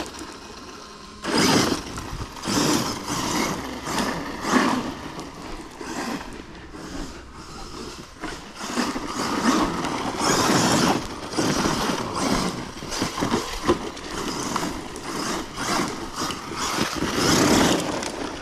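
A radio-controlled car with a Vario motor runs through a forest, a whining, buzzing motor that revs and surges in repeated bursts, close and fairly loud.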